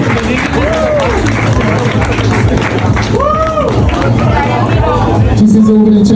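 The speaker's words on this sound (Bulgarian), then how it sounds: "Шумни аплодисменти за представителя на генералния спонсор" An audience applauds at a trans beauty pageant, steady clapping mixed with crowd babble while music with sliding tones plays underneath throughout.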